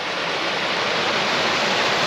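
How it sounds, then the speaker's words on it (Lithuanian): A waterfall on a flooded forest stream in winter pours with a loud, steady, broadband roar, unbroken and close by throughout. "O, krioklys."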